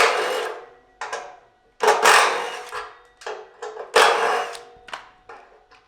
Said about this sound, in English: Remove the 10 millimeter nuts.